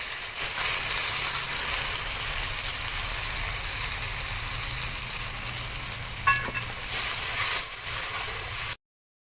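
Ginger paste, cumin and chili powder mixed with water frying in a pan of oil for oil koi fish curry, a loud hissing sizzle with stirring, easing slightly midway before cutting off abruptly.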